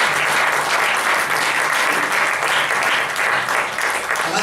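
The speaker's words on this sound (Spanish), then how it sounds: "Denle fuertes palmas a nuestro Señor." Church congregation clapping loudly together, a dense, sustained burst of applause filling the room throughout.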